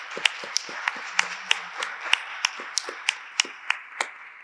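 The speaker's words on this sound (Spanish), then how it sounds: "pido un aplauso para ellos" Sparse applause follows an academic talk, a small audience producing about a dozen distinct, evenly spaced claps, crisp and close, rather than a full roar.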